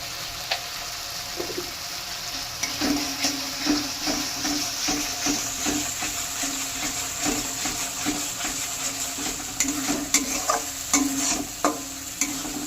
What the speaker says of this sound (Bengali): যতক্ষণ মশলা থেকে তেল না ছাড়বে ততক্ষণ অবধি মশলা কষাতে হবে।